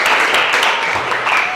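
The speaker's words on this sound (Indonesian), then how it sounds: "Oke, tepuk tangan dulu." A classroom of students claps hands together, a dense, loud, continuous patter of applause lasting the whole stretch.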